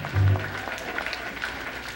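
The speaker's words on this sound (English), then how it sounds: "Let's give her a thundering round of applause." Scattered applause from a pageant audience for the reigning Miss American Samoa, modest and somewhat thin, with a brief low thump at the start.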